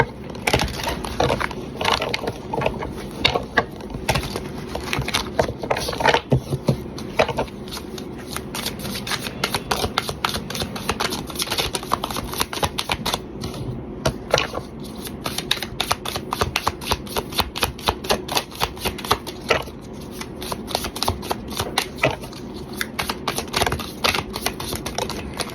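Tarot cards riffled and shuffled from a deck, a dense run of quick papery flutters and snaps close by, with a few cards drawn out between bursts and no talking.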